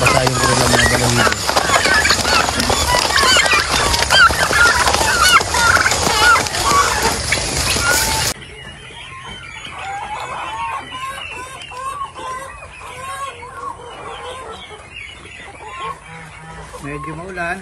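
Turkeys and Rhode Island Red chickens on a rainy farm gobble and cluck loudly and continuously, a dense flock chorus close by that drops to a thinner but steady mix of calls partway through.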